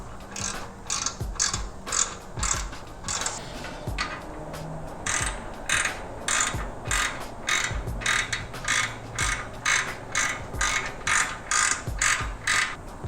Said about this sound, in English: finally, I'll be tightening the clamp bolts